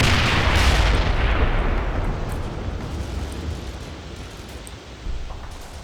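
Heavy artillery fire in the Combat Mission Battle for Normandy video game: a loud, sustained rumbling barrage of deep booms, strongest early on, easing slightly and then swelling again near the end, with no talking.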